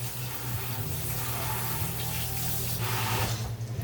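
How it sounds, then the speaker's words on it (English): A kitchen tap runs steadily into a sink while hands are washed, a soft, continuous rushing splash with a low hum underneath, close and fairly quiet, no talk. "Sorry, I had to go wash my hands."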